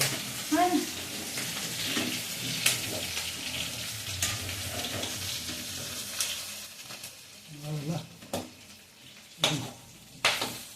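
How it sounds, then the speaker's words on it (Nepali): Pork sizzles and crackles in a pan, with intermittent clattering of utensils and bursts of scraping; a voice speaks briefly at times. "म बुङ्गुरको मासु पकाउँदैछु"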